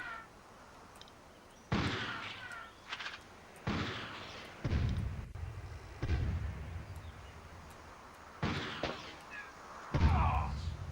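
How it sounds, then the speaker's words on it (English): Grenades go off in the Army Men: Land, Sea, Air PlayStation game as a series of heavy, booming blasts at irregular intervals, each with a rumbling decay, mixed with other game effects. "they got me again with the grenades"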